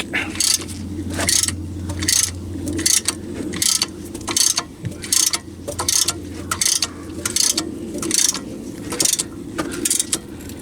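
The caliper piston on a Honda's front brakes is pushed back, giving a steady series of mechanical clicks and ratcheting scrapes about every half second, close and fairly loud.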